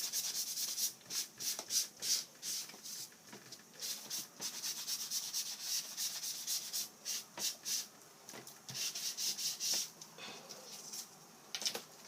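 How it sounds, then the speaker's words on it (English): A sponge rubs back and forth over an inked, embossed paper card to lift off the excess ink, making steady, close, dry scrubbing strokes in a quick uneven rhythm with no talking. "rub over to remove the excess"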